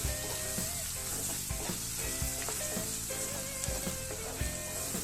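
Egg bhurji masala cooks in oil in a pan with a steady close sizzle and repeated soft stirring scrapes, with a faint background hum running throughout.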